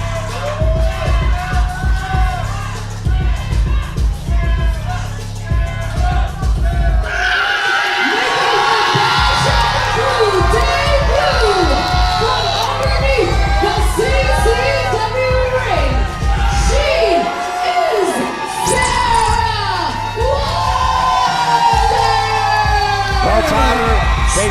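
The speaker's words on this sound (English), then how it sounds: "The crowd really anticipating the entrance." A wrestling crowd at an indie show in Miami cheers and shouts loudly and steadily in anticipation of a wrestler's entrance, with yells and whoops rising throughout and a dense, continuous roar.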